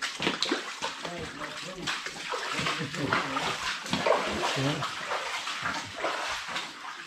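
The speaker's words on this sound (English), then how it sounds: "And there's the water." Water in an abandoned chert mine in Derbyshire, a sustained rushing and splashing close by that fills the space, with people talking over it throughout.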